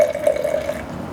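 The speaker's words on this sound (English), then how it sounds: "So we add 170 grams of water." Water is poured into a bowl on a kitchen scale while making a creamy dairy-free soup, a short, steady splashing trickle heard up close and alone.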